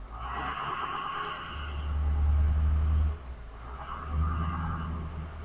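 A bus engine put in gear and pulling away on a road under repair, its deep rumble swelling loudly for a few seconds, dipping, then surging again close by.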